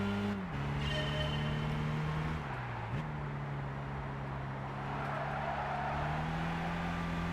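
Mercedes 300 SL Gullwing Coupe running a steady engine drone around the Nordschleife in Gran Turismo 5. The drone rises and falls with gear changes, and faint tire noise sits beneath it.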